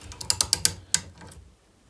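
A spanner ratchets a bolt tight on an MGB GT under restoration, a string of about six crisp metallic clicks in quick succession, then a pause and one more click, close and clear before falling silent.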